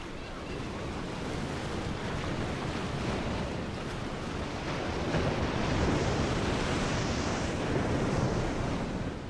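Surf breaking steadily along the Oman coast at the end of the monsoon season, a continuous loud wash of waves with wind noise, swelling slightly louder midway and staying unbroken throughout.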